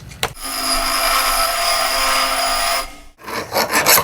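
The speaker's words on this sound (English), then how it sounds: "Now the fun part, tapping cast iron." A steady grinding, rasping scrape of a tap cutting threads into cast iron, continuous for nearly three seconds, then a pause followed by shorter scraping strokes.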